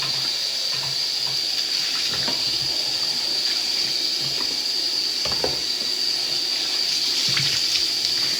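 Tap water runs steadily into a sink while dyed blue hair is washed out, a continuous close splashing flow with scattered small spatters and no talking.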